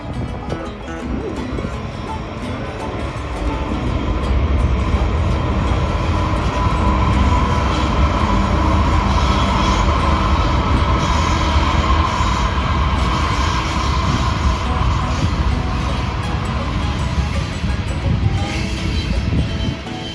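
Model trains run on a layout track with a continuous rumbling sound and rattling wheels, loud and close, building in the first few seconds and then holding steady.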